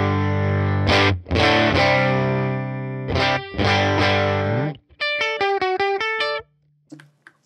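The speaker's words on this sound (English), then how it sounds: "it's bright and detailed when this boost is engaged" Electric guitar played through a UAFX Woodrow 55 amp pedal with its bright boost engaged: distorted sustained chords ring out, then a quick run of staccato picked notes, before fading to near silence.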